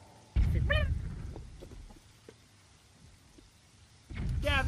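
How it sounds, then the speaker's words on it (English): Rain falls in the Wind Waker video game, a soft steady patter under loud bursts of game effects and chiming sounds near the start and end. "this rain is kind of a bit of annoying, isn't it?"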